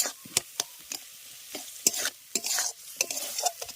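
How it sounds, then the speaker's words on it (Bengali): A spoon stirs raw tomato chutney with sugar in a hot pan, giving repeated close scrapes and clinks over a soft, steady sizzle of the cooking mixture. "চিনিটা দেওয়ার পর ভালো করে এটাকে মিশিয়ে নিয়ে জলটা যে পরিমাণ আছে পুরোটাকে শুকিয়ে নেবো"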